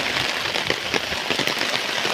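Heavy monsoon rain pours steadily in the Konkan countryside around flooded fields, a dense continuous hiss with scattered drop patters, even and fairly loud throughout with no talking.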